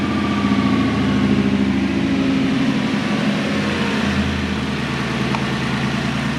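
Toyota Celsior (Lexus LS400) V8 idling with a lumpy cam fitted, a steady close-up engine drone with an uneven, loping pulse and no voices.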